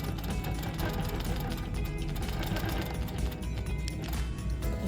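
A Handi Quilter quilting machine runs a rapid, steady mechanical chatter of stitching, loud and close. The rhythm holds for the whole span, with faint clattering and no talk.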